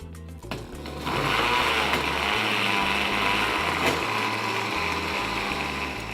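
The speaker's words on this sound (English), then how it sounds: "Let's cover our blender, put it on low." A blender on its low setting, blending sofrito, whirs at a steady, moderate hum after a brief start, running continuously and close by, with a low rhythmic beat underneath.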